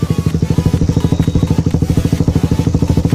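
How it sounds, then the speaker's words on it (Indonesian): A close motorcycle with a Racing Boy chain stabilizer revs in a rapid, even pulsing rhythm with a clattery chain rattle riding on top. "meskipun rantainya masih terdengar ya bunyinya"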